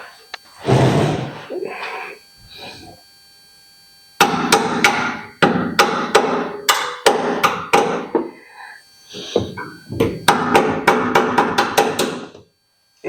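A hammer taps a brake line clip into place on a Factory Five Racing Roadster kit car, sounding as clusters of quick, sharp, close metallic knocks separated by short pauses.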